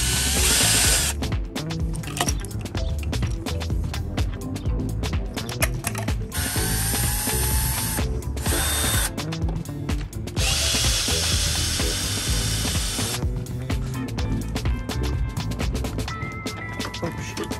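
A ratchet removing parts from a MinE-Moto electric motorcycle built with Tesla batteries: fast, loud ratcheting clicks in long runs broken by short pauses, close and continuous.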